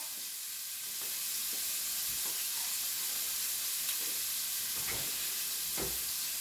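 Ackee and saltfish sautéing in a covered pot, a steady close sizzle and hiss running throughout with occasional soft pops and stirring knocks.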